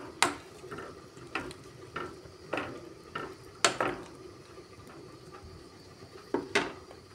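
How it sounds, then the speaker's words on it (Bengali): Shrimp that was fried earlier is stirred into a sweet pumpkin curry in a pan. A spoon knocks and scrapes against the metal in a loose, irregular rhythm of distinct clinks over a soft, steady cooking background, with no talking. "ভেজে রাখা চিংড়ি মাছ দিয়ে দিচ্ছি। চিংড়ি মাছ দিয়ে ভালো করে মিশিয়ে নিচ্ছি।"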